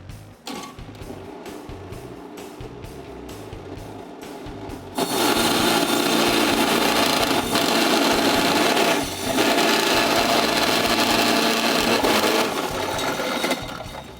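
A kitchen machine grinding frozen streusel dough for a chocolate caramel tart, starting as a lighter intermittent whirring and then surging into a loud, steady roar from about five seconds on, with a brief dip midway, heard alone.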